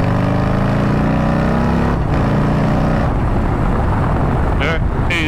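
A Harley-Davidson Lowrider ST 117 motorcycle pulls through third gear around a corner and accelerates, its engine droning loud and close with rising pitch and wind rush, a rider talking over it.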